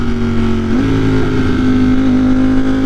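Motorcycle fitted with a smaller front sprocket, an engine tune and a cheap aftermarket eBay exhaust, revving loudly and close by, its steady drone climbing in pitch partway through and holding high, with no talk.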